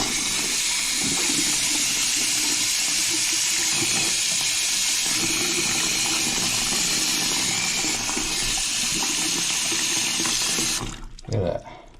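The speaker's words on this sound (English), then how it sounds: "Let's run the water, perfect." Water runs steadily from a repaired sink faucet, a broad continuous rushing splash that holds at an even level and is cut off near the end as the tap closes.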